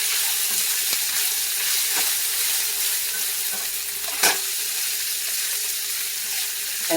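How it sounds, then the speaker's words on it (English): Beef and mushroom risotto is stirred in a hot pan with a continuous close sizzle and hiss, soft scraping stirs and one sharper clatter midway, and no talking. "you're also going to want to go ahead and give that a mix"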